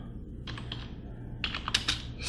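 Close, quiet typing on a computer keyboard, with two short bursts of rapid key clicks separated by a brief pause, heard alone without talking.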